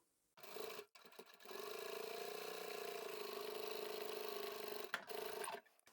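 A sewing machine runs steadily, stitching a fabric pouch from one end to the other, with a brief start, a short pause, then a long continuous whirring run that stops near the end.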